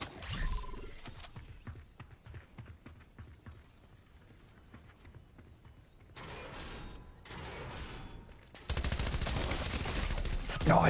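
Rapid SMG gunfire in Fortnite, a burst of dense clattering shots near the start, then scattered clicks and mechanical rattles, ending in a loud sustained stretch of fire and action noise.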